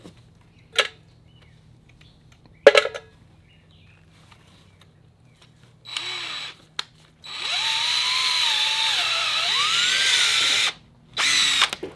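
A power drill bores into lead on a wooden boat build, whining in a few short bursts, then running steadily for several seconds, stopping briefly, and starting again, close by.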